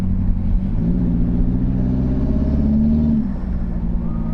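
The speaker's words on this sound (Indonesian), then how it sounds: "Enggak, ya bunyi wastegate aja." A turbocharged biturbo car engine runs loud and close, holding a rising rev for about three seconds before it drops back, with a steady low rumble and no talk.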